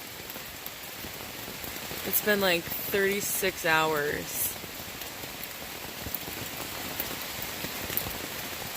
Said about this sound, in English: It's been raining for over 24 hours straight. Like, hard raining.